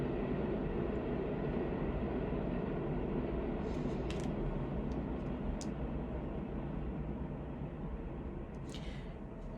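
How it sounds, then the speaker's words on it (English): A steady low rumble of a train rolls by in the distance, with faint high metallic squeals now and then and no talking. "Sorry for the train."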